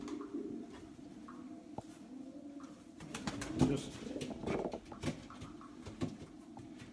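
Racing pigeons in a loft give soft, repeated throaty coos close by, with light rustling and shuffling around them.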